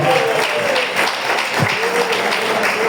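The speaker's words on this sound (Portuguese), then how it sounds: "Então bate palmas e dê glória a Deus." A church congregation claps steadily and continuously during a worship service, dense applause filling the space with some voices mixed in underneath.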